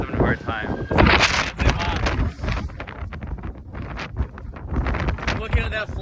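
Strong gusty wind of 55 to 60 mph during a severe thunderstorm event buffets the microphone in loud, surging roars, with someone talking through it.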